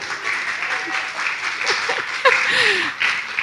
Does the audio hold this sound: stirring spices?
no